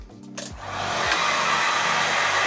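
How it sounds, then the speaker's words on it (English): A heat gun plugged into a socket inside an Adria Compact Supreme motorhome switches on, its motor whine rising into a loud, steady close-up blowing roar. "there you go, you see that light heating up, that's our heat gun."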